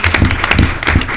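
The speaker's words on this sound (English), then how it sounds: "I want you to give them a round of applause" A brief, close burst of audience applause at a Black History Month law society gathering, a few loud, distinct claps in uneven rhythm over a short span.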